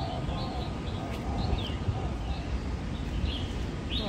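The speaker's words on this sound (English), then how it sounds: "Wow, so many birds." Many birds call in an aviary at a teapot museum, scattered chirps and tweets from several directions over a dense murmur of background noise, moderately faint and continuous.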